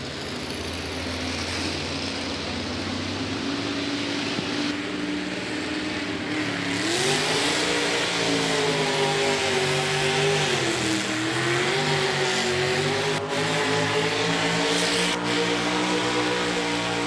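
A 6,200-pound two-wheel-drive modified tractor, a 42 Ford, roars down the pull track at a tractor pull in Centreville. The engine holds a loud, sustained drone, then its pitch climbs and wavers midway as the run continues.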